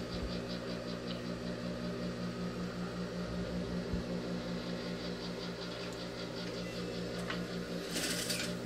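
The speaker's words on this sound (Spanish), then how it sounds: "y cosemos por la sisa ahí" A sewing machine stitches a blouse sleeve into the armhole with a steady, even mechanical whir and rhythmic pulsing, running continuously and fairly quietly until a brief rustle near the end.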